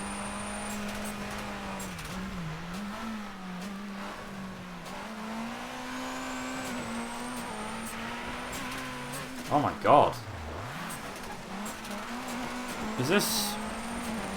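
Rally car engine from Colin McRae: DiRT droning steadily throughout, with shifting revs, tyre noise and brief louder bumps near the end, under a player's excited talk.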